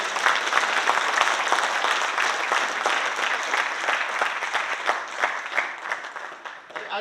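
An indoor audience at a motivational talk in Delhi claps in sustained, dense applause, a steady close roar of many hands that thins out toward the end.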